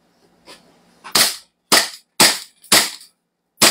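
A toy gun with a fixed barrel fires five sharp, loud cracks at roughly half-second intervals, close by, after a couple of faint clicks.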